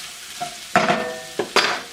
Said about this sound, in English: And let's add our paprika, the oregano. Stir that up as well.